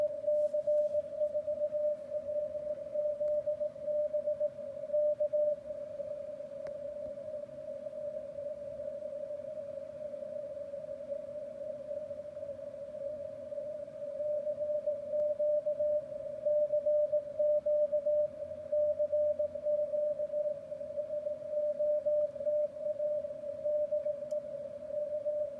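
CW Morse code tones come through on a ham radio receiver as a single steady, clear pitch that holds almost unbroken, over a faint hiss of background noise.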